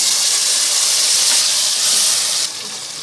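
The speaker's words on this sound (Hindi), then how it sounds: "इसमें हम 1/2 कप से थोड़ा कम 1/4 कप हम पानी डालेंगे" Water poured into sugar in a hot pan for sweet zarda rice gives a loud, steady sizzling hiss that drops off sharply near the end, heard alone without talk.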